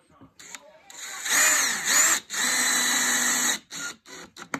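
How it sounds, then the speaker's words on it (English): An electric screwdriver whirs in two sustained bursts, driving screws into MDF, with people talking nearby between and around the runs. "Torque on the screwdriver."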